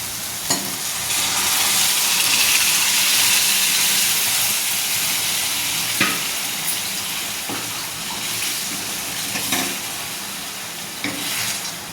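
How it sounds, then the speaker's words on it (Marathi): Dal khichda with turmeric and salt being stirred in a hot pan, a loud continuous steamy hiss and sizzle with occasional sharp scrapes and knocks of the spoon, close and without talk. "हे आपला दाल खिचडा थोडा हलवून घेते मस्त"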